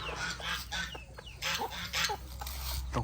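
Several chickens cluck and squawk close by in short, overlapping calls during a morning feeding, over a low background hum.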